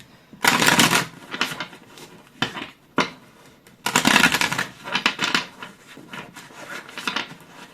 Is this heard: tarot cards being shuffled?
yes